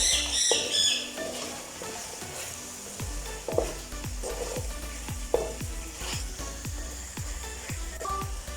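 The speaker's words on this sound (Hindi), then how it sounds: "चम्मच चलाएंगे थोड़ा।" A spoon stirs chicken with fresh coriander in a pan, scraping in a steady rhythm of repeated knocks against the metal over a soft sizzle, close and moderately loud.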